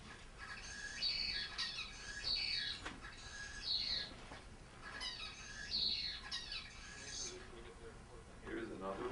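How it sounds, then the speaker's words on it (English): Isolate zebra finch song developed without a tutor: repeated bursts of raspy, squawky syllables with bright whistled notes, recurring in three or four close phrases over a faint background hiss. "Isolate songs sounds bizarre compared to other zebrafinch songs, but they are still quite structured"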